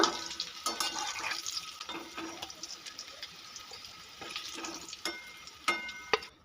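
Boiled potatoes fry lightly in hot oil for a Kashmiri aloo dum, giving a soft, steady sizzle broken by sharp crackles and a few stirring scrapes, close and fairly quiet.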